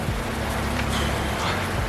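Steady rain pours down, a dense continuous hiss of drops hitting surfaces, with no voices.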